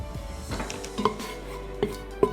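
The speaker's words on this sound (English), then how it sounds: "I'm gonna stir it up." A spoon stirs onions and garlic in olive oil in a pot, soft scraping with a few light clinks of metal against the pan, close and fairly quiet.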